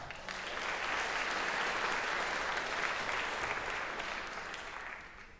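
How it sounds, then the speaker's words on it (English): Sustained applause from the audience at an all-county jazz band concert, swelling in after a brief start, holding as a dense, even roar of clapping and easing off toward the end. "Nice round of applause."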